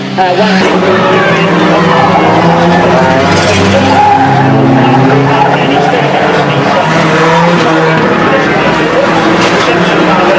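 Race cars skid and crash into the damaged Park 93 car, a loud continuous mix of engine roar and tire noise with a race commentator talking over it throughout.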